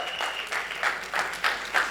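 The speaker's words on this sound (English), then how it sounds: "I think she deserves a big round of applause" At a Punjabi song launch event, an audience gives applause, heard as a thin, uneven run of claps in soft rhythmic bursts, fairly quiet and moderately distant.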